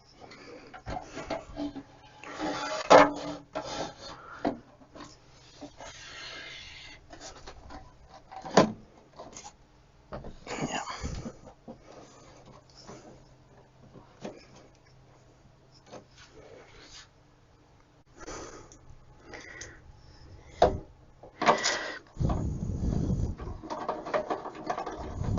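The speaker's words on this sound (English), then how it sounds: "Let's try to put it back in its cover. Carefully slide it in." A Rohde & Schwarz LRT BN 6100 inductance meter slides back into its metal cover with scattered scraping rubs and knocks of metal, close and moderately loud, in irregular bursts.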